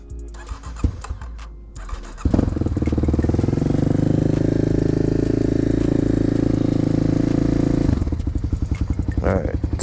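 A 2009 Kawasaki KLX250SF motorcycle is started with the choke on, a few clattering thumps before the engine catches and idles loud and steady for several seconds, then drops into a rougher uneven run.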